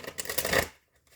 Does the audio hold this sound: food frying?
no